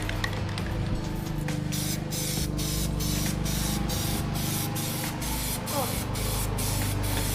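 Metallic Plasti Dip Glossifier and Metalizer hisses from an aerosol can in a continuous close spray, with faint rhythmic ticking in the background.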